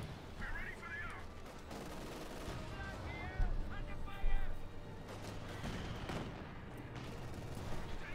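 Anti-tank guns fire on a Panther tank in the World War II strategy game Company of Heroes 2, scattered bursts of gunfire and impacts rising through a busy battle mix with a voice talking over it.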